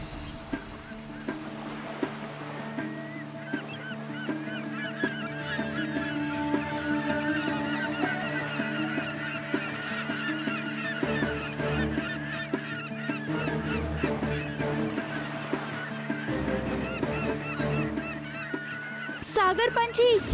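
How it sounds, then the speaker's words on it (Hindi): Seabirds by the sea give a steady stream of honking, goose-like calls that overlap continuously, with a sharper cry near the end. "सागर पंछी"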